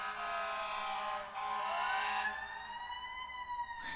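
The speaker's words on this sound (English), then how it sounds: "There's so many sirens in the background this morning" Emergency vehicle sirens wail outside in Manhattan, heard faintly through closed apartment windows as overlapping rising and falling tones that drift in pitch over a few seconds.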